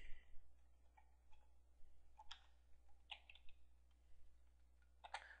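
Faint, sparse key taps on a computer keyboard while a search is typed, irregular clicks over a low steady hum, no talk.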